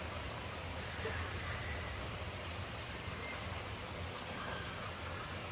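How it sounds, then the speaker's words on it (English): Steady, soft rain falls as a continuous hiss, fairly faint and even, with no voices. "the rain is here"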